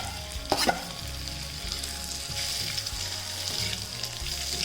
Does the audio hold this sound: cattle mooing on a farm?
no